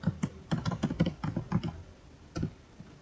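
Keys clatter on a computer keyboard as a router command is typed in quick, uneven bursts of close, crisp clicks, then a pause and a final few strokes.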